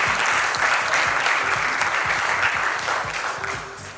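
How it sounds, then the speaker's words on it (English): Hearty audience applause at the Osmocon 2022 crypto conference for a panel of speakers, a dense burst of clapping over a low rhythmic beat that gradually fades out. "Another round of applause for Zaki, Emery, Dean, and Brent."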